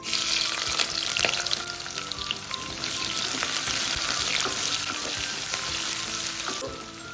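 A chopped large onion frying with cardamom and cloves in a pan for vegetable coconut milk rice gives a loud, steady close-up sizzle with occasional stirring scrapes and no talking.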